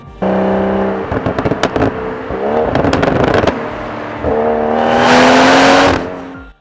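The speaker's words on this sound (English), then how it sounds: "downshifts are just addictive" BMW M240i tuned to 410 bhp, its engine revving and dropping through gears in loud stepped sweeps, with crackling pops between blips and a final rising roar.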